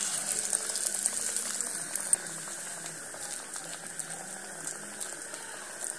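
Flattened cabbage and red lentil pakoras sizzling in hot oil, a dense, steady hiss and crackle that holds evenly throughout with no voices.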